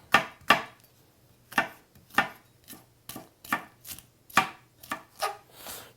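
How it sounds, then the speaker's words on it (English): A knife chops through a cabbage on a cutting board into small pieces, a dozen or so crisp thuds in an uneven rhythm, close and clear with quiet gaps between strokes. "You are all set for cutting this into pieces."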